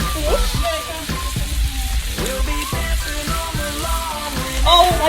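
Fish fries in garlic butter in a pan with a continuous loud sizzle and crackle. Faint voices and tonal sounds run over it.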